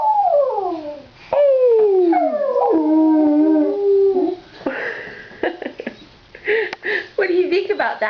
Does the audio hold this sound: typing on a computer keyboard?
no